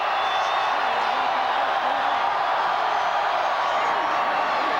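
Large football stadium crowd at a 1996 Auburn vs Ole Miss college game, a dense, loud, unbroken roar that holds steady throughout.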